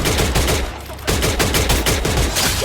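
Rapid automatic gunfire in the Free Fire shooter game, loud, dense bursts of repeated shots with a short pause near the one-second mark before firing resumes.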